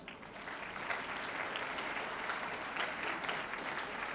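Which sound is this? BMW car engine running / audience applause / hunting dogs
audience applause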